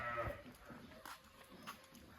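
Sheep bleat a few times, faint and a little distant, with a murmur of voices and outdoor noise in between.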